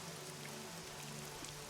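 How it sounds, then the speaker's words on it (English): Steady rain falls throughout, a dense even hiss of drops on surfaces close by, with no voices over it. "and it's raining"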